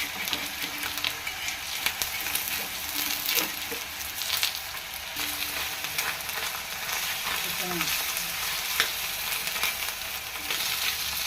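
An egg omelette fries in a pan with a steady crackling sizzle for about eleven seconds, dotted with small pops and occasional scraping.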